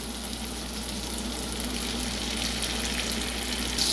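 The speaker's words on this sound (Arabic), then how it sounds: "وبعد كده احمر البصل" Onion frying in a pan in a little butter and oil for shepherd's pie gives a constant, fairly quiet crackling sizzle under a low hum, with no speech.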